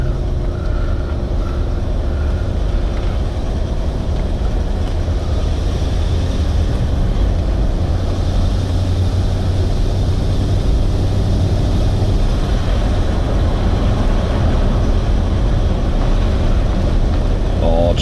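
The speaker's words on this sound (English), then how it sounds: "Oh, just that rumbling V8, you can just hear it." A Range Rover TDV8 V8 diesel engine rumbling steadily from inside the cabin while driving, a continuous loud low drone with road noise throughout and speech over it.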